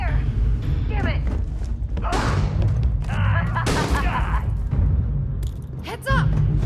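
Gunfire in the sci-fi game Starfield, bursts of shots and heavy thuds under loud in-game shouting and combat chatter.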